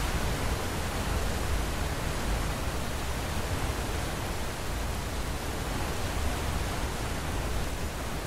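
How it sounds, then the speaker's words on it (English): A waterfall in the video game Skyrim roars as a steady, dense, unbroken wash of falling water, loud and even throughout with no voices. "I'll check out the waterfall."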